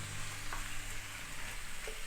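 Clean, deveined shrimp hit a pan of hot spicy garlic mixture and sizzle steadily, with a dense, even frying hiss lasting throughout and no voices.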